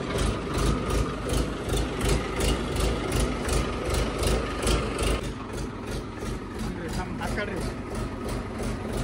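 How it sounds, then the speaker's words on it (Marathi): A tractor engine idles steadily with a low, pulsing rumble throughout, loud and close, while a voice talks over it. "ट्रॅक्टर आपला लगेच लावून घेऊ"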